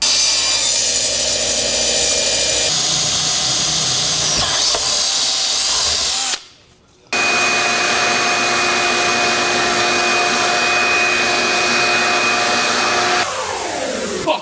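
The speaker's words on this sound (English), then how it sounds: "Now I can cut two symmetrical holes on the table router." A table router fitted with a template cuts symmetrical port holes in wood, producing a loud, steady high-pitched whine with a short silent break midway, heard close up.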